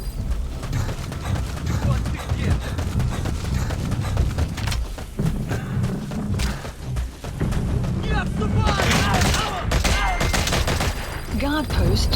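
Unsuppressed gunfire from a weapon in the video game Metal Gear Solid V: The Phantom Pain, loud repeated shots and bursts over game music and effects, with a voice speaking at times.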